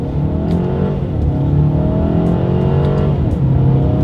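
A 2020 Mercedes-Benz A220 accelerates hard in first gear in manual paddle-shift mode, its engine revving steadily upward and loud from inside the cabin, with a brief dip as the revs fall.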